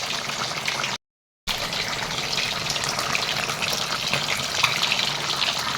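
Fish curry with bottle gourd boils hard, giving a dense, continuous bubbling rush that cuts out briefly near the start and then resumes at an even level, with no voices.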